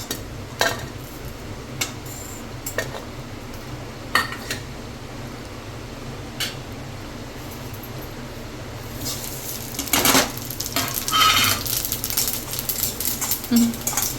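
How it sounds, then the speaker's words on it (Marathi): Whole spices dropped into a pan of fried dried coconut, scattered light clicks and metallic taps of spices and a spoon against the pan, busier rustling and stirring toward the end. "आता आपण आपले जे खडे मसाले ते टाकून घेऊया"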